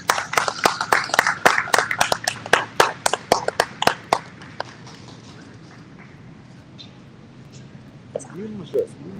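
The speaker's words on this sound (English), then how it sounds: "Let's give Luke Olson a round of applause." Audience applause at a dairy show, a burst of claps that is loud for about four seconds, thins out and fades, followed by quiet and a voice starting to speak near the end.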